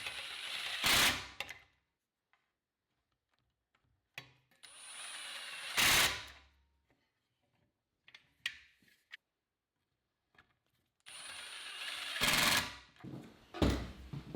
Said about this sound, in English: I'll drive the screws on either side of the clamp, then remove the clamp and drive the center screw.